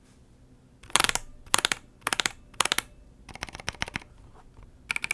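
Unlubricated Glorious Lynx mechanical keyboard switches pressed in short sharp bursts, each cluster of clacks carrying a bright metallic spring ping; about seven separate bursts, close and fairly loud, with no voices.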